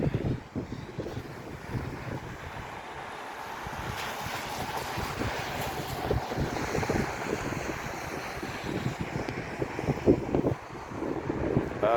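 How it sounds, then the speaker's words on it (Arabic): Winter sea waves breaking along the Martil corniche in Morocco, with strong gusty wind buffeting the microphone over the continuous surf roar. "هذاك البحر اللي هاد اجي نوريكم الاجواء كيفاش عامله هنا على البحر"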